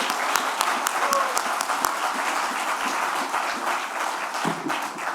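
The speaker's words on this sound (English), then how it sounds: "Please join me in a round of applause for the Newark Municipal Council." An audience at the 22 Fulton groundbreaking in Newark applauds the Newark Municipal Council with brisk, sustained clapping from many hands, individual claps snapping out near the front, slowly easing toward the end.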